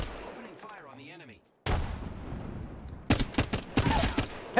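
Gunfire in the video game StarCraft II, several sharp bursts of shots rising over a battle din in the second half, after a quieter stretch of electronic game sounds.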